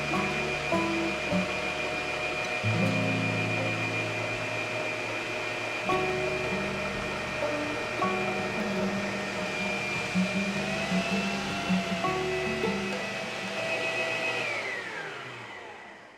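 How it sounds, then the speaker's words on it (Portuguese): An electric stand mixer whips egg whites while hot caramel is poured in a thin stream for a lemon tart meringue, giving a steady close motor whine with shifting hum and slight pitch changes, winding down at the end. "Vou ligar a batedeira e colocar o caramelo em fio."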